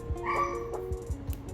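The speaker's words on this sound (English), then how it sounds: "it's my dog" A playful pet dog lets out several short, high yips and barks at close range in a quiet room.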